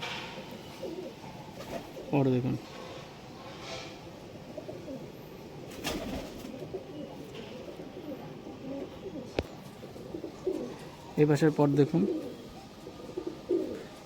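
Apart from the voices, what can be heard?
closed-tail pigeons cooing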